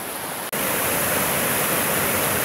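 The Great Falls of Tinkers Creek in a Berea sandstone gorge, a loud, steady, close roar of falling water, broken by one very brief dropout early on.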